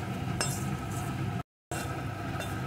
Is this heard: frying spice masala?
yes